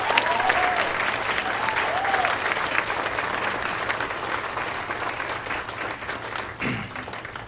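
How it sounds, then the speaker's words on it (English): Dense, sustained clapping fills a room at an awards luncheon and fades slightly toward the end, with a few voices faintly audible beneath it. "If we could give Stephanie a round of applause."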